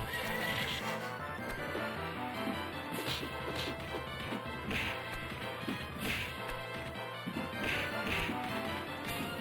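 In the arcade game Tenchi wo Kurau 2, a horse neighs and whinnies loudly over clip-clopping hooves, heavy crashes and whacks from combat, all with busy game music.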